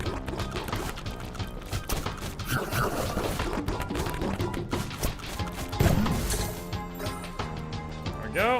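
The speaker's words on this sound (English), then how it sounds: "need to do another explosion on multiple enemies" Game combat from the action RPG Nobody Saves the World, with an explosion striking several enemies amid dense crunching hits and thuds over constant music, one burst standing out near the middle.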